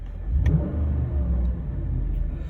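A 2010 Jeep Grand Cherokee with the 5.7 Hemi V8 revs up in a loud throttle blip, then holds a steady, rumbling engine note close by for a couple of seconds.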